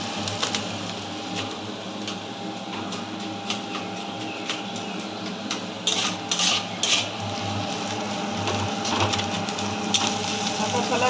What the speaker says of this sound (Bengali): এর মধ্যে মাছের মাথাটা দিয়ে মশলার সঙ্গে ভালো করে কষে নেবো।